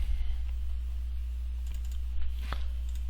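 Fingers tap on a computer keyboard in short bursts of light clicks, close and fairly quiet over a low steady hum, with a firmer keystroke near the end.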